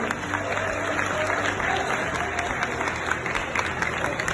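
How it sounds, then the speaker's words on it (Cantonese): An audience at a martial arts association's public-speaking course applauds the association president with sustained, lively clapping. The applause holds a steady level throughout, and a faint murmur of the crowd sits beneath it. "所以我請在座咁多位亦都俾一次熱烈嘅掌聲"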